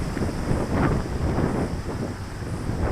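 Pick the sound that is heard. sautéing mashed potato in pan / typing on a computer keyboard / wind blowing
wind blowing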